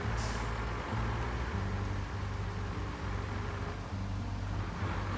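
Big heavy truck in the game RoadCraft, a deep droning diesel engine idling and labouring in steady low pulses, close and constant, with no talk over it.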